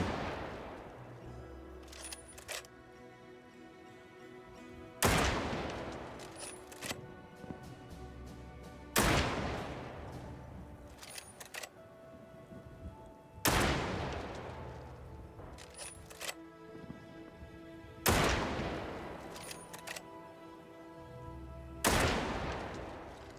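Gunfire in the video game The Caribou Trail: six heavy, booming shots spaced roughly four seconds apart, each trailing off into a long ringing decay, with quieter mechanical clicks between them and no talking.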